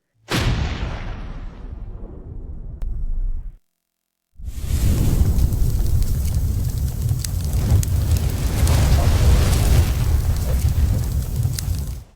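Fireworks explode during a monster-hunting scene: a single heavy boom decays into a rumble, a moment of silence follows, then a continuous loud barrage of deep booms and crackles rolls on without pause.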